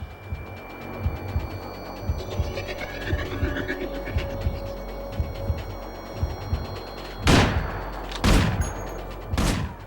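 Rapid gunfire against armored guards in the stealth video game Manhunt, steady repeated shots at moderate level over a low rumble, with three louder sharp bursts near the end.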